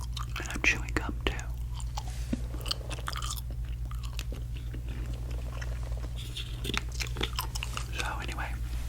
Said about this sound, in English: And I'm chewing gum too.